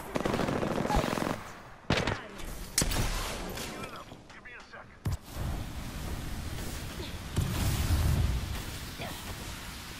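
Bursts of automatic gunfire in an Apex Legends match, rapid rattling volleys broken by short pauses and sharp single cracks, loud and close, with players talking over the shooting.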